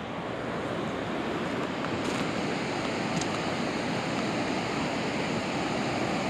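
High river water pours over a dam in a continuous broadband roar, steady and enveloping from start to finish, with a couple of faint clicks and no voices.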